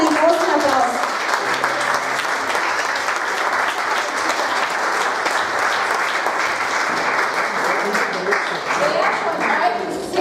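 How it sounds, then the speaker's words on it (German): Loud, sustained audience applause filling a church glory conference hall in Vienna, a thick continuous roar of many hands clapping that runs steadily throughout, with a few voices mixed in underneath. "Gebt Jesus einen großen Applaus"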